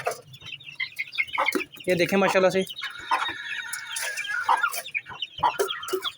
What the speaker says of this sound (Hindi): मुर्गी बाहर निकल गई है